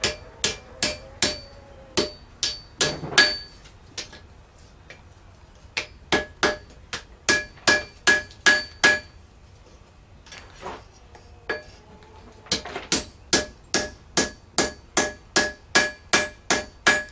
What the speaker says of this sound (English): I'm just going to heat it up, put some borax on it, and hammer it together.